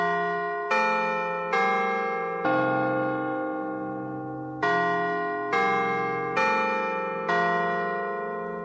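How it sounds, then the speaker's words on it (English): Doorbell playing the eight-note Westminster chime, bell-like tones struck one after another at a steady pace, each ringing and fading into the next, clear and alone with no talking. "the notes that we would hear and automatically connect with the doorbell sound, actually has a name, and it is called Westminster chime"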